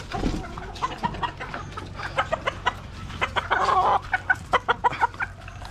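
Several chickens cluck in rapid, irregular bursts at close range during feeding on a small farm, with a brief louder flurry of calls partway through and no talking.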